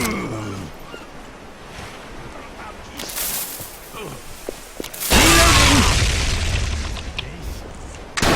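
A rifle fires in the PVK video game and lands with a loud, booming blast midway through, set against ambient game noise, scattered smaller sounds and some talking.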